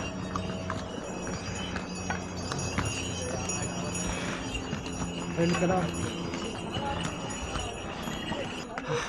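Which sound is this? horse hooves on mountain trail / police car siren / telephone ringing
horse hooves on mountain trail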